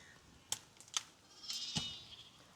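A sheep bleats in a short, wavering cry after two sharp knocks, out in the rain at Myliddy fishing harbour, heard fairly close with no voices over it.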